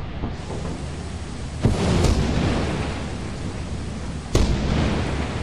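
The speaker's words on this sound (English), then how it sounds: "He just had three lightning bolts strike back to back to back" Lightning strikes and thunder in the game Lethal Company, two sharp cracks a few seconds apart over a steady heavy rumble of storm noise, loud and close, no talking.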